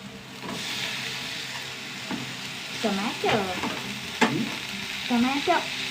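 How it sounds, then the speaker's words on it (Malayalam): Tomatoes sautéing in a frying pan with a steady sizzle, broken by several stirring scrapes and a sharp clack of a utensil against the pan, heard close with no talk. "തക്കാളി ഒന്ന് വഴണ്ട് വരട്ടെ കേട്ടോ"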